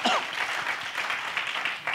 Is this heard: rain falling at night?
no